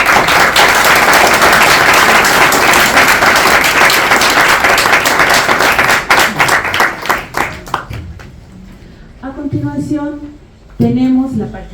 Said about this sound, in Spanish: nuevamente un aplauso y un agradecimiento profundo por estar aquí